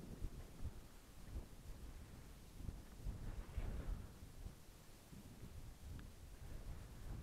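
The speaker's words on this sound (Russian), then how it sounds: "Гром где-то в море так и гремит." Low, distant rumbling of thunder over the sea swells and fades under steady wind noise buffeting the microphone, faint and far off.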